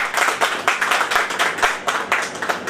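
An audience claps to welcome a speaker at a gathering: a brisk, close burst of many hands applauding in uneven, rippling waves for a few seconds.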